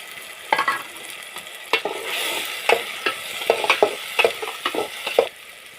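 Onions, chopped tomatoes and green peas fry in a pan while a spoon stirs them, giving a steady sizzle broken by repeated close clinks and scrapes against the pan.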